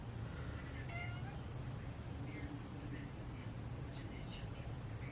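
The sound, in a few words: cat in heat meowing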